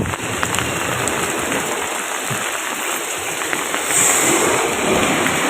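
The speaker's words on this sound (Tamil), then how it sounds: "சரியான மழைங்கோ." Heavy rain during Cyclone Fengal in Chennai pours down in a dense, steady hiss, loud and close throughout with no pause and no voices.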